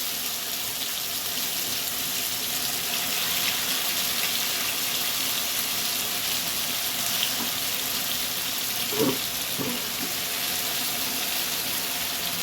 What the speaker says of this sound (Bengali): এইভাবে সব চিকেনগুলোকে আমি ভেজে তুলে নিয়ে